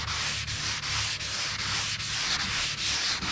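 Steady abrasive sanding strokes rubbing back and forth across a surface, close and continuous with a regular rhythm of about eight passes.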